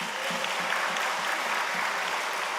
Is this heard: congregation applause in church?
yes